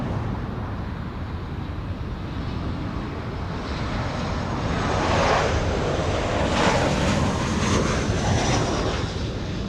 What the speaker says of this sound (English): Okay, so we have a C-17 landing in the south.